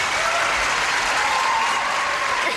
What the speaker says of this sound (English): A little brisk round of applause here.